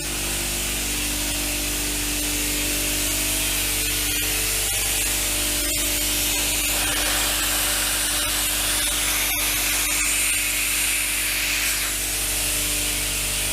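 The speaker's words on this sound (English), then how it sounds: "but the compressor is running." A refrigerated air dryer's compressor hums and hisses steadily at close range, a constant mechanical drone with a few faint clicks, running without pause.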